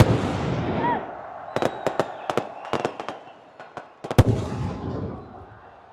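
Firecrackers going off at a cricket stadium ceremony in Peshawar, a rapid series of sharp, loud cracks in irregular bursts over crowd noise, with a final cluster of bangs.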